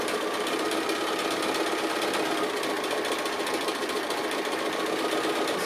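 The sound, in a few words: free motion quilting stitches on a sewing machine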